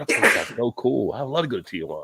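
One sharp sneeze bursts out at the very start during a casual happy-hour drinking chat, and people begin talking again right after it.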